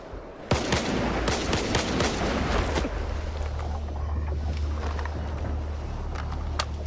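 Gunfire in the video game STALKER 2 opens with a sharp shot, then a dense, rapid burst of automatic fire over the first few seconds, fading into a lower rumbling background with a few scattered later shots.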